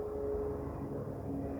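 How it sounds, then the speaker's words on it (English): A steady, rumbling aircraft engine drones continuously, a low, even roar with no break. "Helicopter."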